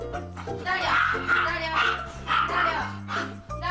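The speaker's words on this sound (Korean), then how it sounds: "그때 격하게 짖는 여우를 예주 씨가 제지하는데요" A dog barks fiercely and excitedly in a home, a string of sharp yips and whimpering barks over a steady drone of music or background noise.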